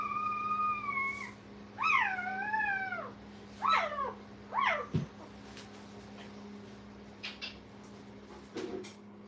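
Newborn kennel puppies give high, rising-and-falling whimpering cries in several separate bursts, fairly close, over a steady low hum, with short pauses between the calls.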